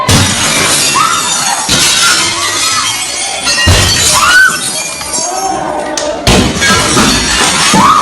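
Glass shattering and crashing amid a chaotic street attack in Indore, Madhya Pradesh, where a mob pelts stones at healthcare workers; repeated loud smashes and impacts ring out over shouting voices and crowd noise throughout.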